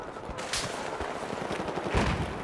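Bursts of gunfire crack through a busy, noisy scene in Battlefield 4 multiplayer, a few sharp shots standing out, with a heavier blast near the end, fairly loud throughout.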